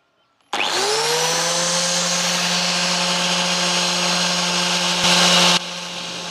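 Homemade flour mill machine switches on and grinds soaked rice, a loud steady motor whine that rises to full speed and holds, with a brief harsher surge near the end.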